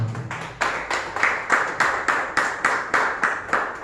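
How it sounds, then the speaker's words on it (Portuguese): Church congregation applauding, a dense crowd of hands clapping together in a steady rhythmic beat, loud and close, with no voices over it. "Dá uma oferta de aplauso ao Senhor"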